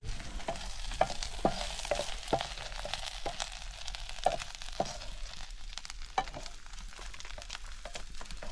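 Dried fish being fried and stirred in a pan over a jungle stove, a steady close sizzle with repeated sharp clicks and scrapes of the utensil against the pan, no talking.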